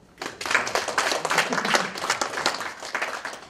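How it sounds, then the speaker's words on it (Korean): An audience at an invention education conference bursts into applause, a dense, steady clatter of many hands clapping close by for a few seconds, without talk. "정말 공감하시면 박수 한번 쳐주세요"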